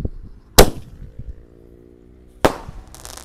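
A green single-shot roman candle firework launches at night during Ramadan fun, two sharp loud pops about two seconds apart, the second trailing into a brief hiss, outdoors with a faint rumble between.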